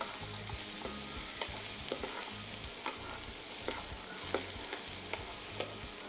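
Chopped onion and cumin frying in hot oil with steady sizzling, broken by repeated close stirring scrapes of a spoon against the pan.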